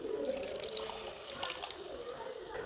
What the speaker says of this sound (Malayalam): നമ്മുടെ പുളിവെള്ളം ഒഴിച്ചു കൊടുക്കുകയാണ്